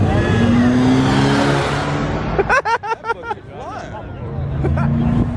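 At a car meet with luxury cars, an engine revs hard and close, then drops away as a burst of excited crowd voices cuts in, before the engine roar builds again.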